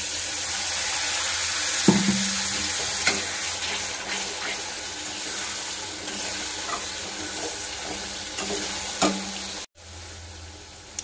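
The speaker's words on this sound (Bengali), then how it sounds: "ভালো করে নাড়িয়ে আবার একটু ভেজে ভেজে নেব" Steady sizzling of food frying in a pan, with occasional scraping and clinks from stirring, fairly close and continuous.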